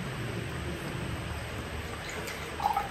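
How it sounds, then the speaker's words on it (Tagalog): Rain falls steadily as a soft, even hiss, with a few brighter drips toward the end. "Parang lalakas pa yung ulan, ha?"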